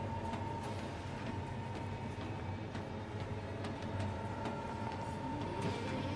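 Steady rumbling drone of a moving train inside the video game Final Fantasy XV, heard from within a passenger car, with a constant low hum and faint rattling clicks, no voices.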